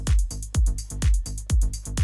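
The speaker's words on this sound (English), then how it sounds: "You don't get it more prog house than a bass line that plays this." A progressive house bassline played on a Minitaur analog synth: deep, plucky bass notes repeating in a steady driving rhythm, each note starting punchy and quickly decaying, loud and alone for about two seconds.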